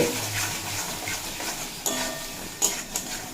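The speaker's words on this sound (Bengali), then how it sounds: "হলুদের গুঁড়ো জিরের গুঁড়ো ধনের গুঁড়ো আর হাফ চামচ মতো লঙ্কার গুঁড়ো দিয়ে খুব ভালোভাবে কষিয়ে নেব" Raw banana being sautéed with turmeric, cumin, coriander and chilli powder: a soft, steady sizzle with clinks and scrapes of a spoon against the pan, a few louder knocks standing out.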